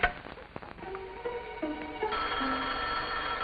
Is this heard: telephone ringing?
yes